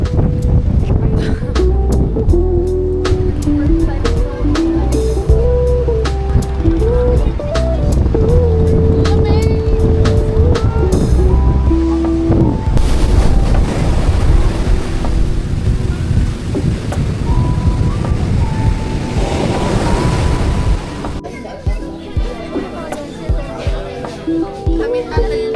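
Strong wind buffeting a microphone at a cold beach, a heavy, continuous roar that dominates the whole stretch, with voices talking underneath and the gusts easing toward the end.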